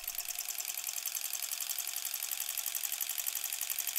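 Quilting sewing machine stitching through a leader and ender fabric scrap, a steady fast needle clatter running continuously and evenly at close range with no talk.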